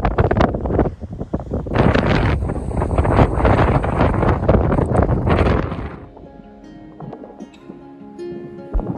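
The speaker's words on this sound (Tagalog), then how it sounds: "Ang hangin." Strong wind blowing at sea along the shore, loud gusty roar and buffeting against the microphone for several seconds, then easing to a quieter rustle with faint tonal sounds.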